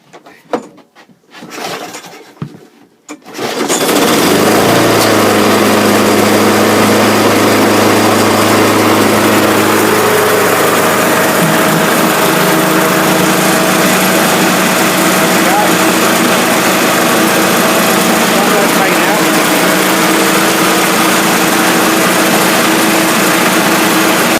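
A Briggs engine on a Mountfield lawn mower is pull-started with a few sharp tugs, then catches and runs loud and steady close by for the rest of the stretch.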